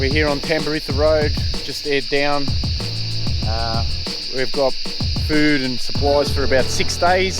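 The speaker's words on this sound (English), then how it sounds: "Not sure if you can hear me with all these cicadas going sick in the background" Cicadas in summer bush on a high country track in Victoria, Australia: a constant high-pitched drone sits under a man's close, loud talking through the whole stretch.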